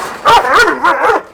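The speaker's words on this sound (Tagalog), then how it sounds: "Tapang ng aso?" A guard dog at a catfish farm barks loudly and close by, giving a quick string of sharp, yelping barks with no talk over them.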